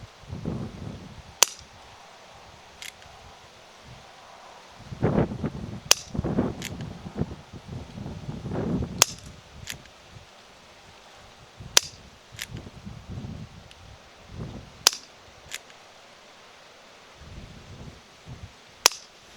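Six BB or pellet pistol shots fired at pumpkins, each a sharp, short crack spaced irregularly apart, with quiet handling and rustling in between and a few low bumps.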